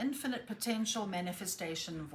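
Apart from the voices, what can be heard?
No everyday noises stand out.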